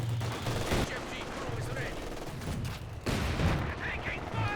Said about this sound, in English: dodging away from that machine gun